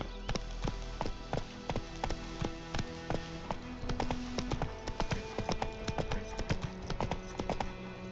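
Roach the horse gallops in The Witcher 3, steady rhythmic clip-clopping hoofbeats at a fast, even pace, close and clear, with no voices over them.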